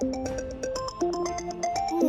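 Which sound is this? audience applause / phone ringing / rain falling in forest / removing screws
phone ringing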